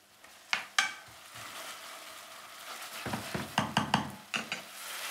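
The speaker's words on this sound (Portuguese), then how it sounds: "E vamos deixar refogar lentamente." Ingredients for a monkfish caldeirada sauce, including anchovies and salt, sautéing slowly in a pot, with a soft sizzle under sharp clinks and scrapes of a utensil against the pot that come in bursts near the start and end.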